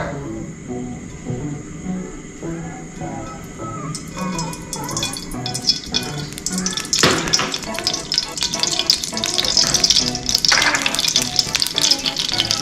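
Oil sizzles in a hot wok, starting with a soft crackle and growing into a loud, dense frying hiss with scraping clatter.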